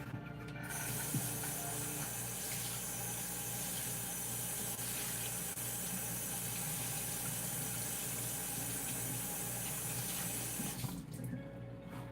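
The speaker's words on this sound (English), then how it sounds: "I'm going to rinse this off." Tap water runs steadily into a kitchen sink for about eleven seconds while an item is rinsed under it, a loud continuous splashing rush that stops abruptly near the end.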